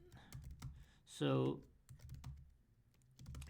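Close, quick clicks of typing on a computer keyboard come in irregular bursts, with a brief spoken phrase partway through.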